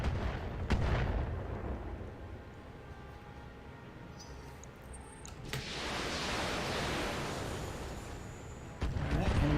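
Mech weapons fire in the Battletech video game as heavy booming blasts and rumbling, noisy impacts, loud and close, with a sustained roaring swell midway and a sharp hit near the end.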